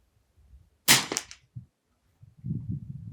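A BSA Martini International Mark II rifle fires a single sharp shot on an outdoor range, a sudden loud crack with a short echo tail, followed by quiet low rumbles.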